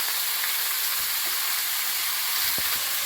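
Oil sizzles and hisses steadily in a hot wok, a continuous bright frying noise with a few faint clicks and no voices.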